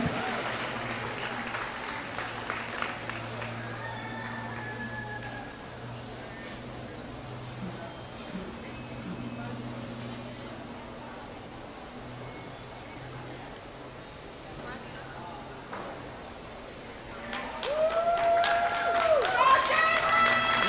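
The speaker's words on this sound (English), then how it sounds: "let's give another round of applause for these kids and the parents in the back who support them." Applause at a youth fair livestock show for the children and their parents, a crowd clapping at moderate distance beneath ongoing talk and background hum, swelling louder near the end.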